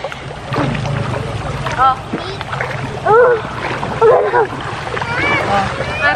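Strong, swollen creek water at Baras rushes in a steady, loud broadband flow with occasional splashes and wind buffeting the microphone, while people, including children, talk and call out close by.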